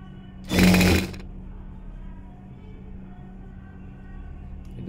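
Sewing machine stitching a blouse runs in one short, loud burst of under a second near the start, then stops, leaving low steady room hum for the rest.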